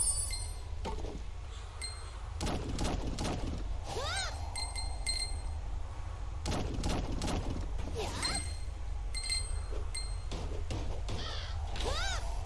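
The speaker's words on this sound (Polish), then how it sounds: "Ja jeszcze kruka słyszę." Repeated raven caws in a video game's graveyard scene ring out in clusters over a steady background drone, with faint chiming tones, several bursts of harsh calls spread across the scene.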